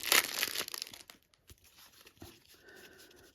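Plastic wrapping on a Star Wars: Deckbuilding Game card pack rips and crinkles in a sharp, close burst lasting about a second, then fades to faint rustling and handling noises in a quiet room.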